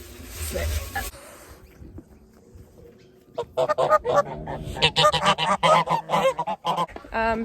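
Geese on a farm honk loudly and repeatedly in rapid bursts during the second half, preceded by a brief noisy stretch and a quieter pause.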